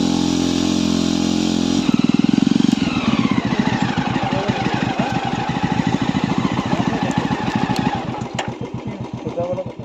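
A motorcycle engine revs hard and labors steadily climbing a steep uphill road in Dong Valley, its rapid pulsing throb loud and close throughout, pitch shifting as it climbs.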